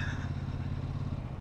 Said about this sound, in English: It'll be rude not to open up this throttle.